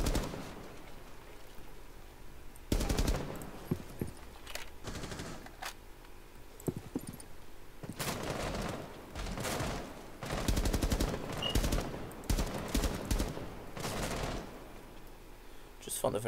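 Bursts of rapid gunfire crackle through a shooting video game in repeated volleys of varying length, fairly loud over a quieter steady background, with a voice talking at times.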